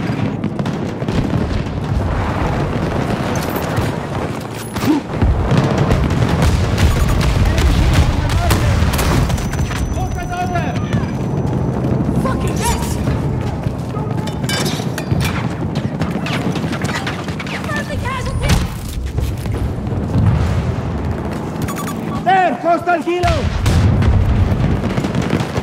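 Battlefield 2042 battle sounds: dense, continuous gunfire and booming explosions fill the whole stretch at a loud level, with in-game voices shouting orders underneath.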